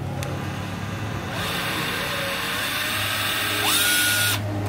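A Japanese cordless drill with a freshly cleaned and regreased hammer mechanism runs with a steady whine that audibly spins up twice, close and loud, with no talking.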